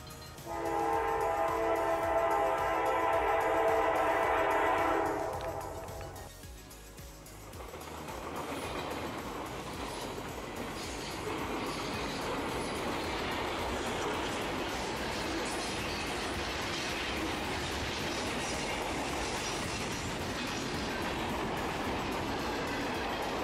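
A loud train horn sounds for several seconds, then the steady rumble and rattle of a long iron ore freight train, up to two miles long, rolling past continues at close range.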